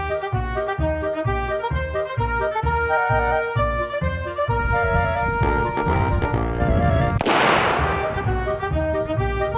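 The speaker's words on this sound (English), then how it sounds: "the first shot went well" A homemade revolver fires a single sharp, loud shot at a shooting range. The crack bursts out once over steady music playing throughout.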